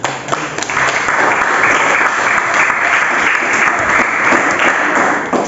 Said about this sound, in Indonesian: Oh ya, betul, tepuk tangan.